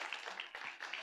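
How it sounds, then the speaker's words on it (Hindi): Audience applause at a film trailer launch event, a dense continuous wash of clapping filling the hall for about a second, steady and fairly loud with slight swells. "एक बार जोरदार तालियां हो जाएं"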